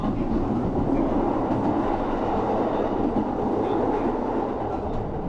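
A Kintetsu Suzuka Line train rolls steadily at the end of the line near Ise-Wakamatsu, a constant loud rumble with faint rail clatter throughout, no pauses and no voices.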